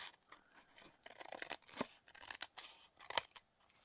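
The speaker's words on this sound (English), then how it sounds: "I've gone and used scissors to trim" Quiet, close snipping of scissors cutting paper, a series of irregular crisp snips with small pauses between them.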